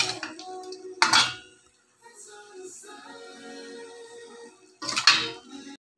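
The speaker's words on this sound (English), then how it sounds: "Now we're going to mix it nicely and let it cook for a while." A spoon mixes potatoes into chicken biryani in a cooking pot, with bursts of metallic clanking and scraping against the pot separated by quieter stretches, close and with no talking.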